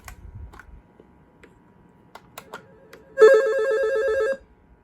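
A kids' intercom toy phone's electronic ringer trills in one steady warbling burst of a bit over a second, near and loud after quiet clicks and handling.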